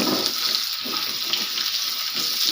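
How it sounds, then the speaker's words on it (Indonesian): Shallots, garlic and chili frying in hot oil for jengkol goreng kecap: a steady, close, bright sizzle that stays loud throughout with faint stirring scrapes and no talk. "lalu kita goreng sampai matang"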